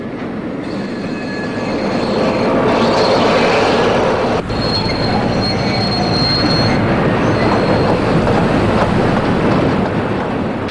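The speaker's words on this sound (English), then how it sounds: "A Class 5280 heads north with a freight." A Class 5280 steam locomotive hauls a freight train north in East Germany, a loud, continuous rolling rumble with high wheel squeals and wind buffeting the microphone.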